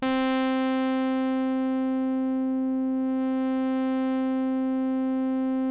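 Sustained synthesized tone holding one steady pitch, its upper harmonics softened by a tilt control so it sounds mellow; constant, even and alone, with no talking.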